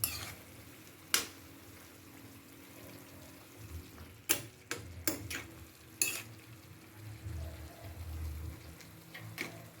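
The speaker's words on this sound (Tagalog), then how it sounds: "Ayan, haluin na natin at ating tikman." Adobong kangkong with tofu stirred in a pan, scattered sharp clicks and scrapes of a spatula against the pan over a faint sizzle, quiet and close with brief clusters of knocks.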